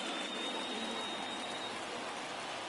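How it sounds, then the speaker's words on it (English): Rain falls steadily at a baseball game in Tulsa, a soft, even hiss of drops on surfaces, faint and continuous with no talk over it. "Boy, rainy day in Tulsa"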